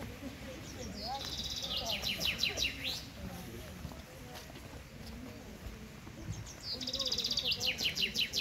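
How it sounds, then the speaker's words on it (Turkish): Birdsong rings out at a lakeside tent campsite by Nazlı Göl near Abant Lake: bright trilled phrases in two bursts, near and clear, over a low background murmur. "Ne güzel kuş çok güzel ötüyor"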